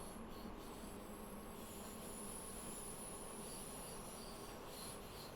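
Train running through the Vorburg tunnel on the Mittenwaldbahn near Hochzirl, a faint, steady, dense rumble with continuous wheel and rail noise throughout.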